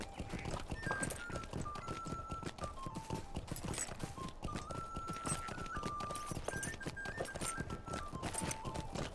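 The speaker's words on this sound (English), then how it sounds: "I am getting on my horse to ride back from Bywater to Hobbiton." Horse hooves clip-clop steadily in the Lord of the Rings Online video game while riding through the Shire from Bywater to Hobbiton, a continuous trotting rhythm over light background music.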